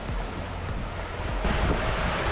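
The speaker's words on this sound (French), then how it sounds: "Le vent est de 25 nœuds établis, ça souffle plutôt fort" Strong, steady 25-knot wind blowing over open sea while sailing toward Curaçao at night, a constant roar with washing surf and no gusts, close and loud throughout with no voices.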